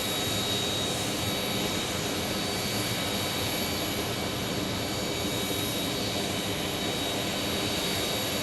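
An Airbus A321neo jet arriving from Santa Ana, Orange County, at Phoenix Sky Harbor Airport gives a continuous, even jet roar with a thin high whine running steadily through it.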